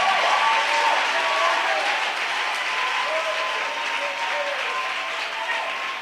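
A church congregation bursts into sustained applause to acclaim Jesus during a worship service, a dense, loud wash of clapping from a large crowd with a voice faintly audible underneath.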